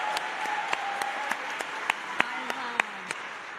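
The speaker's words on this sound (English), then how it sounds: "Yeah, clap it up for Paul Canepa." About a dozen sharp, evenly spaced claps ring out in a steady rhythm, fairly quiet and close, while a person talks underneath.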